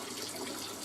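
A small hydroponics pump pushing water through a line at 1200 litres per hour, heard as a constant soft rush of flowing water throughout.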